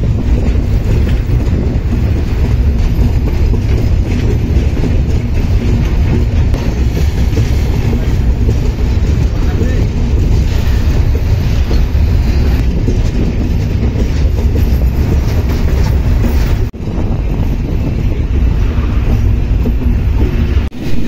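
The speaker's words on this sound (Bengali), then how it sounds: "বর্তমান আমরা যে রেল লাইন দিয়ে যাচ্ছি বঙ্গবন্ধু সেতুর উপরে বা যমুনা সেতুর উপরে আছে" A passenger train crosses the Bangabandhu (Jamuna) bridge slowly, heard from on board. A loud, steady rumble of wheels and carriages carries a rhythmic rail clatter, with a brief dip partway through and no talk.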